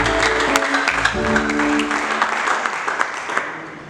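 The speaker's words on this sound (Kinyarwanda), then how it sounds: "Twakomeye Imana amashyi." Congregation in a church service claps together, a dense burst of applause mixed with sustained keyboard-like music tones, fading slightly toward the end.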